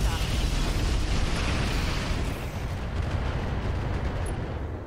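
A mech fires a 20-tube short-range rocket salvo in the RogueTech video game, a dense continuous roar of overlapping launches and blasts that stays loud for several seconds before easing slightly.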